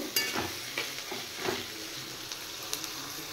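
Chopped onions fry in a pan with mace for a Bengali chicken dish, a steady close sizzle broken by a few scraping stirs of a spatula against the pan.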